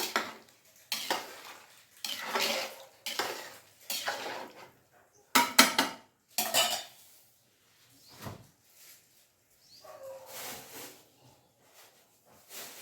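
A spoon mixes rice for vegetable biryani in a pot, scraping and clinking in a steady run of strokes that fade to softer, sparser stirring.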